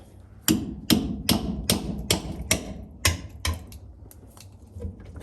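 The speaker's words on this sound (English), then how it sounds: "let me grab a hammer, guys, real quick" Sharp metallic hammer strikes on a bent truck axle ring out about eight times at a steady pace, loud and close, with brief echoes fading between blows.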